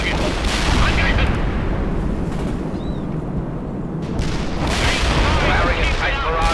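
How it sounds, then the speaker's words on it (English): Artillery barrage in World in Conflict, a continuous rumbling wash of blasts and booms with dense layered impacts throughout, loud and sustained, with voices partly audible in the mix. "Firing a tight barrage at the target area."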